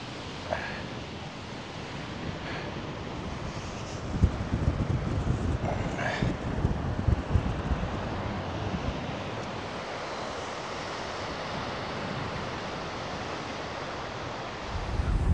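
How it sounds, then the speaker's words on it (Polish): Strong wind roars across a black volcanic sand coast in Iceland, a loud continuous buffeting rush with gusts hitting the microphone. "Ale wieje."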